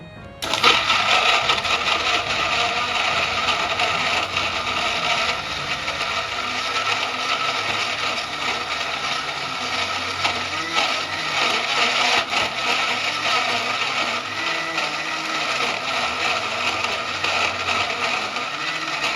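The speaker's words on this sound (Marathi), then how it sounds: "आता आपण मिक्सर ऑन करूया" A kitchen mixer grinder whirs loudly and steadily as it blends sugarcane pieces with lemon, a continuous motor roar with gritty churning that barely varies from start to finish.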